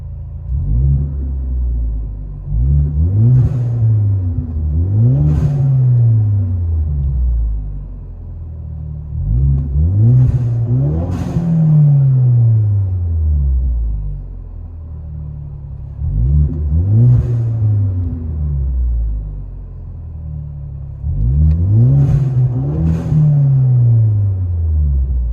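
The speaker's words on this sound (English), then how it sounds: "Ford Focus ST, 6-speed standard MBRP system, catback" A 2017 Ford Focus ST with a six-speed manual and an MBRP cat-back exhaust, heard from inside the cabin, revs repeatedly in pairs of deep rising-and-falling blips over a steady rumbling idle, loud and close.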